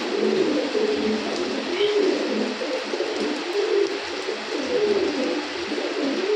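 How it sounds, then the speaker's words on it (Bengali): Pigeons, gribaz and coloured fancy breeds, coo in soft repeated rolling calls that sound close and fill the scene, with a steady low murmur of more birds behind them. "আজকের আরও এক জোড়া কবুতর"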